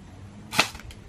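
A single sharp crack of a gunshot at a shooting range in Pai, Thailand, fairly near and brief, with a short tail and no voices.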